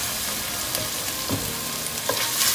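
Ginger garlic paste, about two tablespoons, fries in a pan with golden-browned onion, giving a steady close sizzle with a few stirring scrapes and no voices.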